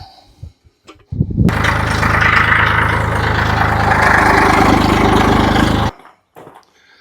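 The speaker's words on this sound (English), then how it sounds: "So we'll nurse the tractor back under the shed" Tractor engine idles loudly and close by, a steady low rumble that starts abruptly after some clanks and cuts off sharply near the end.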